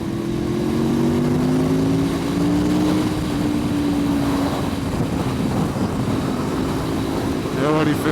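An Aprilia Tuono motorcycle engine climbs steadily in pitch as the rider accelerates on the road, heard close under constant wind rush, with a voice talking at times.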